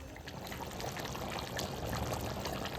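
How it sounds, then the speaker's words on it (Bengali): Water pours into a pot of jackfruit and potato curry with a steady, close splashing rush that lasts about three seconds, with no pause and no voices. "বেশি জল দেব না অল্প জলেই মাখা মাখা হবে"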